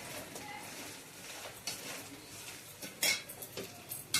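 Metal spoon clinks and scrapes against a pan as chili powder is stirred into chicken pickle, a string of light clatters and taps with a few sharper knocks near the end, no talking.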